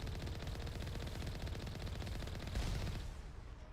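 Sustained rapid gunfire from turrets in the video game Mass Effect, a continuous dense machine-gun rattle at steady loudness for nearly four seconds, briefly swelling louder near the end before easing.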